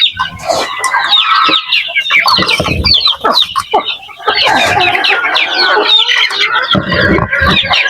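Chickens and chicks in a free-range area cluck and squawk loudly and close by, a busy overlapping flock chatter with a few sharper calls.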